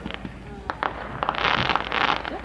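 Small-town Canada Day fireworks bursting over water near a rocky point, a run of sharp cracks and crackling pops growing denser and louder toward the end, with people chatting excitedly nearby.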